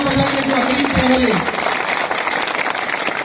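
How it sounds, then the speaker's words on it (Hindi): At a political rally, an audience claps loudly after a man's spoken call. The steady, broad wash of applause runs on strongly after his voice stops. "एक बार जोरदार तालियां बजाइए"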